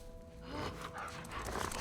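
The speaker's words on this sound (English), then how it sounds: "Oh, it's a fucking dog." A dog panting and snuffling close by in The Last of Us 2, a brief breathy burst over a low rumbling game background.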